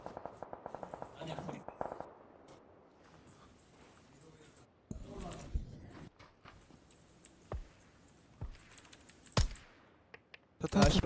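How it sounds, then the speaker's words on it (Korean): Gunfire in PUBG: Battlegrounds during a squad match, heard as scattered sharp shots over background noise. Players talk over them. "어, 총소리."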